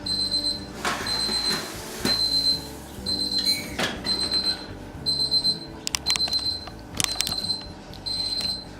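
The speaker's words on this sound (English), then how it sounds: "No, that's not the timer for the oven, that's the timer for the laundry." Repeated electronic beeping from a laundry machine's timer alarm in a kitchen, short high beeps in a steady rhythm of bursts over background clatter and rustling, moderately loud and with no talk.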